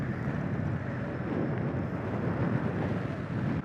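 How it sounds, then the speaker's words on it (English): Strong, gusty wind roars across the microphone of a rider on an electric skateboard on a warm summer night, a continuous loud rushing buffet with no break. "Well, cool hurricane level breeze."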